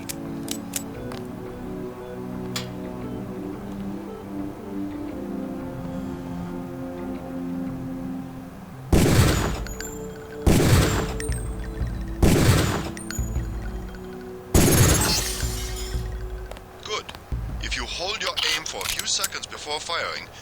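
A pistol fires at targets in Deus Ex, four sharp, loud shots spaced a second or two apart, standing out over a low humming game ambience, with a brief rustling burst afterward.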